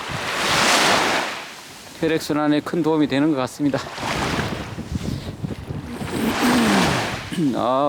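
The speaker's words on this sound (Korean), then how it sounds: "파도가 잔잔하게 치고 있네요. 이렇게 파도 소리 들어가면서 맨발 걷기 하는 것은" Gentle ocean waves on a Jeju beach roll in as soft, broad washes that swell and fade twice, with a person talking over the middle stretch.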